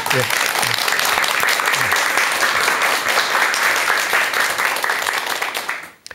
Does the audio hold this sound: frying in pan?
no